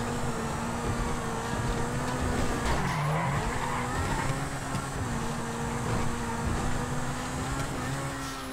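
A car in GTA 5 skids with a long tire squeal over a steady engine drone, heard at a moderate distance throughout.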